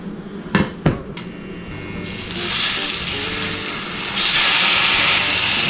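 Hot oil sizzles steadily in a pan frying vegan mushrooms, a loud continuous hiss that swells toward the end, preceded by a few sharp clanks of cookware.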